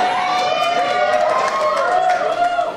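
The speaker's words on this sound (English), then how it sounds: "The crowd seems a little excited about this one." An excited crowd at an anime convention dating auction cheers and shouts loudly and continuously, with voices blending into a dense, sustained roar throughout.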